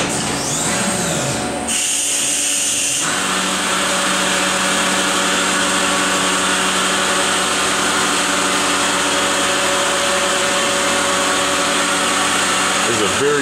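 A CNC mill cuts a 5C adapter plate for an HRC160 rotary table, starting with a brief rising whine and then settling into a loud, steady high-pitched hum with constant tonal ringing.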